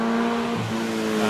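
Lotus 61, Lotus's last production racing car, driving a hillclimb course, its engine note held steady then dropping in pitch partway through, loud and close with no voices.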